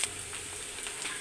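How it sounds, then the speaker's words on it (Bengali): Spices fry in oil in a pan, giving a brief, steady hiss of sizzling with faint crackles throughout. "কিছু মশলা ভেজে নেওয়া হচ্ছে।"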